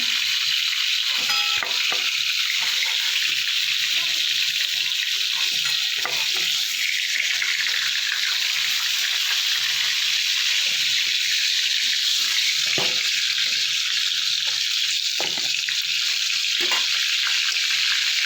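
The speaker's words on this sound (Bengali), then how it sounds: "তাই অল্প অল্প করে ভেজে নিচ্ছি" Steady, loud sizzling of pointed gourd frying in a pan continues throughout, with occasional soft scrapes and stirring knocks.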